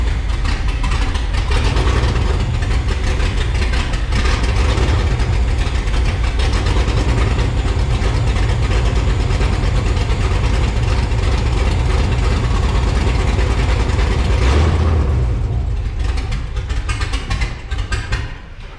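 A 6.0 V8 swapped into a Chevrolet Colorado runs loud and close on a rough tune, a dense, steady engine drone that barely wavers, then dips and shifts briefly near the end as it goes into gear.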